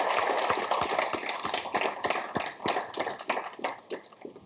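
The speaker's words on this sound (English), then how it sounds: "I would like for us all to give them a warm round of applause and thank them for their time" Scattered audience applause thanking departing economists at a careers event, with distinct individual claps standing out from a thinning crowd and tapering over a few seconds.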